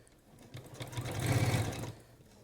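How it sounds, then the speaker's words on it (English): A sewing machine runs a seam with piping, a soft whirring stitch that rises to a fast, steady buzz for about a second and then stops, faint and close. "Just back tack there, or do your lock stitch"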